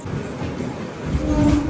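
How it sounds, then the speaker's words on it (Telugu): A MEMU passenger train on the Anantapur to KSR Bengaluru run (66560) arrives at Malgur railway station. Its steady, close rumble swells louder toward the end, and a thin sustained squeal rises over it. "మాల్గూరు రైల్వే స్టేషన్ కి మన ట్రైన్ అయితే వచ్చేసింది"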